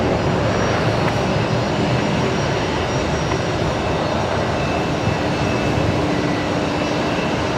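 Jet aircraft engines roar steadily at Brisbane Airport, a loud, continuous broadband rumble with no voices over it.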